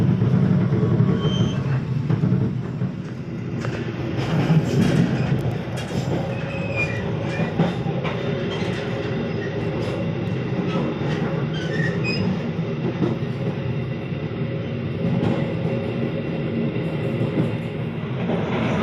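The KA Gaya Baru passenger train runs on rails after leaving Cirebon Prujakan, a loud steady interior rumble with wheel clatter and occasional high squeals from the wheels, continuous throughout without talk.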